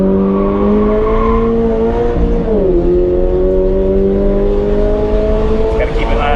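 Toyota GR86 engine droning steadily on a race track, held at moderate revs with a pitch that dips briefly and then climbs again, loud and close throughout with no talking over it.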